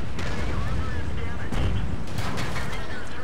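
Tank cannon fire and battle noise in World of Tanks on the Malinovka map, a loud continuous rumble broken by heavy booming shots, with talking over it.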